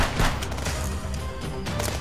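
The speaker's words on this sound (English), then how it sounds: "that guy is shooting right at me" Dense gunfire rattles through a firefight at a border checkpoint in Contraband Police, a continuous loud wash of overlapping shots with no clear gaps.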